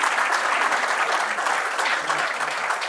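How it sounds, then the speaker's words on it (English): Steady applause from an audience at a speaking event, moderately loud and even for a few seconds with no speech over it. "That deserves a round of applause."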